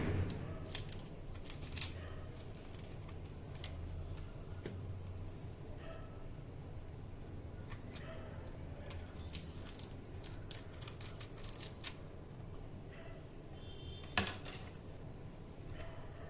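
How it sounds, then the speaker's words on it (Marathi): A knife cutting the stem end off a sour raw mango, with scattered crisp snips and clicks over a quiet kitchen background, no talking. "सर्वप्रथम आपण ह्या कैरीचा हा जो देठाचा भाग आहे हा कापून घेऊ."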